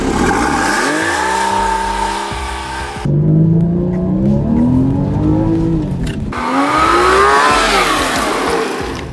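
Porsche Cayman S launching hard from a standstill, its engine revving loud and close through rising gear pulls, with a brief shift gap around the middle and tire noise under the strong acceleration.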